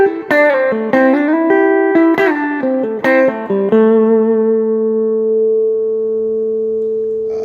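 McLguitars Elite HSS electric guitar in vintage sunburst, played on its humbucker pickup: a quick run of picked notes with sharp attacks, then a sustained note ringing out and slowly fading, loud and close.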